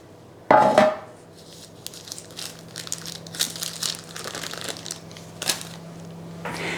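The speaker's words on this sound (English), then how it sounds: "remove the paper." Baking paper crinkled and peeled away from a cooled French almond Genoa cake in a home kitchen, opening with one loud crumpling rustle, then a run of softer scattered crinkles and light handling noises.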